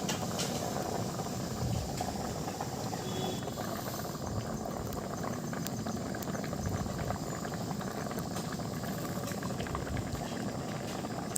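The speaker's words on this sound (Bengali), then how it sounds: "কত সুন্দর ফুটছে দেখো তরকারিটা" A potato curry bubbles vigorously in a pot on the stove, a close, continuous burbling boil with small rattling pops throughout and no talking.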